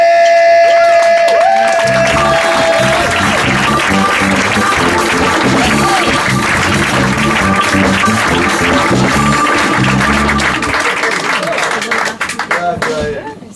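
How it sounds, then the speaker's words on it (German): A stage audience at a late-night comedy show applauds a magician, with a steady, loud wash of clapping and cheering under band music, tapering off near the end. "Mit einem herzlichen Applaus."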